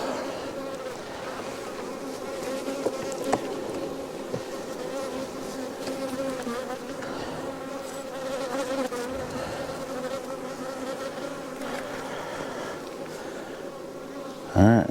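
Honey bees swarming around an open beehive during a hive inspection, a dense, steady droning buzz up close that continues throughout, with a brief louder bump at the end.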